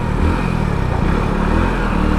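A 2022 Hero HF100 motorcycle with a refined BS6 engine, revved while standing, gives a steady, loud, close mechanical drone throughout with no talk.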